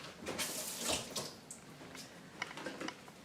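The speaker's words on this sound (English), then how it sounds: "I'll dump water out and I'll rinse all these." Lemon water poured out of a pot, then produce rinsed under running water, splashing and gurgling in uneven bursts with a few light knocks, close and alone.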